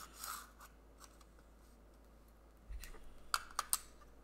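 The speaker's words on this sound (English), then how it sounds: "So I'm switching out the blade." Blade of a bevel protractor being swapped out at a metrology workbench: a brief close metallic scrape at the start, quiet handling, then a cluster of three sharp metal clicks near the end, with no talking.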